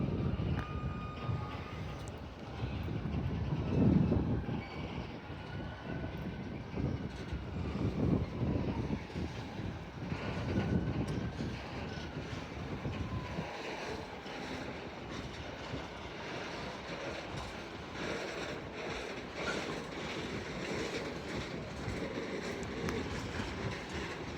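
An LNER Azuma train pulls out of Doncaster station on the East Coast Main Line. A loud, sustained rumble of rolling stock and wheels fills the platform with faint clickety-clack, swelling early and then holding steady with no talking.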